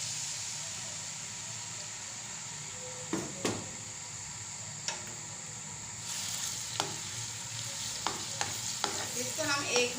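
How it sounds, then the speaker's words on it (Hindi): Ginger garlic paste frying in hot oil, a soft steady sizzle with several sharp clicks and scrapes of stirring, growing busier toward the end. "हमारा ऑयल गर्म हो गया है, इसमें डाला अदरक लहसुन का पेस्ट"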